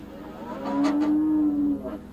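A dairy milking cow gives a single drawn-out moo lasting about a second, fairly close and clear over a quiet barn background with no speech.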